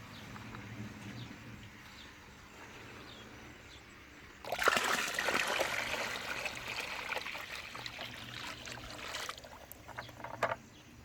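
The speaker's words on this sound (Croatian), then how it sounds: "Dok jama upije malo vode koju smo nasuli" Water is poured into a freshly dug planting pit for a fig tree in a countryside garden. A steady, fairly close gush and trickle begins partway through after a quiet outdoor stretch.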